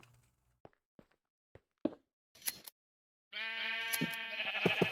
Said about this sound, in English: Oh, I can play sheep noises.